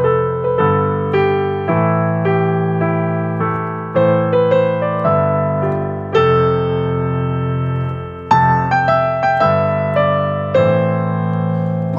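Piano plays the melody over a chord progression, sustained chords changing roughly every second with a melody line on top, clear and alone with no voices.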